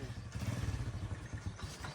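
A motorbike arrives in a village during Eid, its low engine putt-putting steadily close by for a couple of seconds, with no talking.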